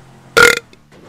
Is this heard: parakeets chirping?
no